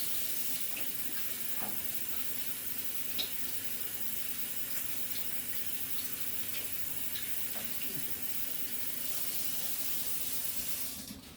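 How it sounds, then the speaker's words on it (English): Tap water runs steadily into a sink while bread dough for unleavened Pesach bread is rinsed off hands, a continuous close splashing hiss with no talking. "wash all this dough off my hands"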